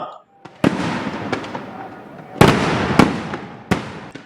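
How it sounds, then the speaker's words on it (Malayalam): Thrissur Pooram sample fireworks at Thekkinkadu Maidan at night, the Paramekkavu side lighting first: repeated sharp booming cracks at irregular intervals over a continuous crackling, rumbling roar, loud and echoing. "രാത്രി ഏഴ് നാൽപ്പത്തിയഞ്ചോടെ പാറമേക്കാവ് വിഭാഗമാണ് വെടിക്കെട്ടിന് ആദ്യം തിരികൊളുത്തിയത്"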